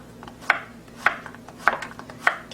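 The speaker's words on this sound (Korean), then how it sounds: "야채를 썰어주겠습니다" A knife slices Korean zucchini (hobak) on a cutting board for perilla sujebi, four crisp, evenly spaced cuts ringing out close by with soft rubbing between them.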